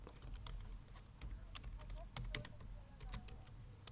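Rapid clicking keystrokes on a computer keyboard, close and fairly quiet, tapping in an irregular rhythm while text is entered into a table in MS Word 2016.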